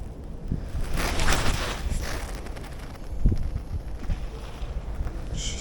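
Strong crosswind buffets the microphone in a steady roar while feeder fishing, with gusts swelling and easing throughout.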